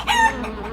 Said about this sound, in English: Oh, and the chicken can eat the bugs!